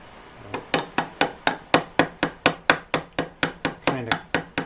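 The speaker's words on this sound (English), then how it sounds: "that's why I'm using this tool, this body hammer" Body hammer strikes metal parts of a 1925 Ford Model T during band relining, about fifteen sharp, evenly spaced ringing blows in a steady rhythm, close and loud with nothing else heard.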